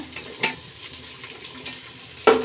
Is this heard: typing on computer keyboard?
no